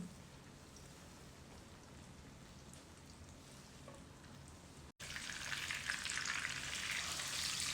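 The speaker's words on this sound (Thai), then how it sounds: "มะเขือยาวชุบไข่ทอดค่ะทุกคน ไข่ปูเต็มกระทะเลย" Egg-dipped eggplant frying in a pan: soft frying hiss at first, then a sudden jump to loud, crackling sizzle as oil spatters steadily close by, with no talking.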